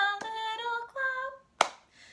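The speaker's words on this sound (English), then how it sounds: "Open, shut them, give a little clap." A single clap of the hands lands in a children's action song, one sharp crisp hit between sung lines, with the singing voice carried over a sustained melody around it.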